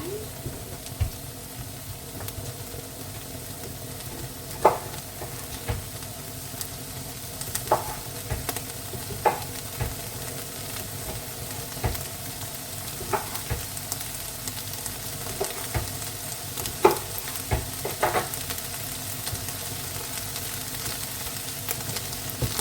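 Beef sizzles and fries steadily in a pan for a Kiwi-style Thai larb, with intermittent scraping stirs and clinks over a constant broad hiss, close and moderately loud throughout.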